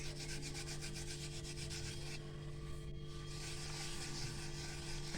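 A rolling pin works chapati dough on a board, a soft, continuous rubbing and scraping close by with a faint rhythmic back-and-forth pulse.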